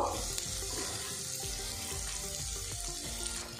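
Chopped cabbage tipped into a pan of lightly cooked carrots gives a steady close-up sizzle with scattered clinks and shuffling as the vegetables are stirred, continuous and fairly loud with no talking.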